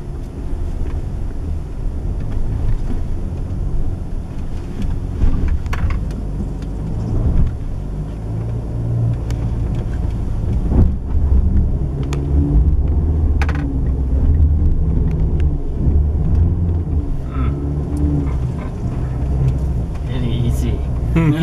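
Mercedes-Benz GLC with raised suspension driving off-road, a steady loud engine and road rumble with wind buffeting and bumps throughout, under ongoing conversation between occupants.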